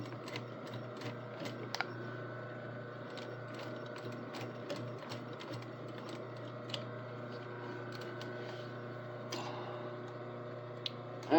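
A sewing machine runs steadily while stitching a kilt waistband seam, with a constant mechanical hum, fine rapid needle ticking and a few sharper clicks, and no voices.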